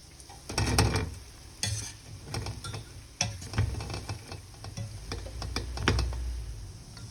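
Sweet snack dough (laughing cookies) fries in hot oil, giving a quiet, steady sizzle. Irregular clinks and scrapes of stirring utensils sound close by, and no one speaks.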